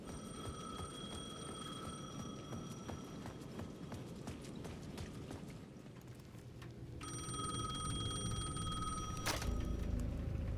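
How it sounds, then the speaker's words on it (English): A payphone in the Alan Wake 2 video game rings with a steady electronic bell over a busy, rhythmic background, the ringing pausing and then returning louder and closer near the end. "The payphone at the edge of the plaza was ringing again."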